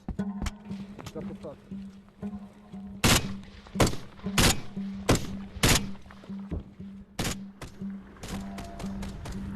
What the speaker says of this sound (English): Russians are shooting us.